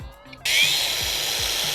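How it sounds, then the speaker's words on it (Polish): An angle grinder switches on to bevel a ceramic tile held on a table edge at 45 degrees: a sudden start after brief quiet, then a loud, steady, high motor whine close by. "Kładziemy sobie naszą płytkę na krawędzi stołu przytrzymujemy ją ręką i włączamy naszą szlifierkę"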